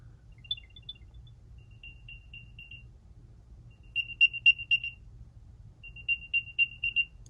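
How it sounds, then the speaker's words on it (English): An Apple AirTag playing its locate chime, three rising sets of short high electronic beeps separated by quiet gaps, each set louder than the last, over faint background hum with no talk. "So each of those 3 chimes gets a little bit louder"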